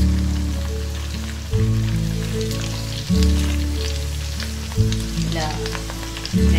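Sojjappam frying in hot oil, heard as a constant bubbling sizzle close by, layered over a repeating low tonal backing pattern that shifts every second or so.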